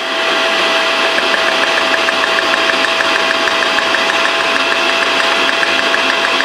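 An electric mixer whips cream with icing sugar into a firm vanilla cream, a loud, close, continuous motor whir with a fast rhythmic rattle running steadily throughout.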